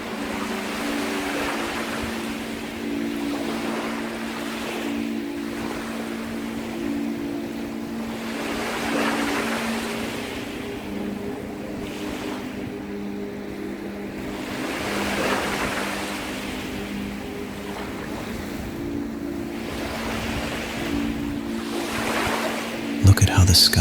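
Ocean waves roll in slow, repeated surges every few seconds, swelling and fading under a steady soft tonal drone at a gentle, even level.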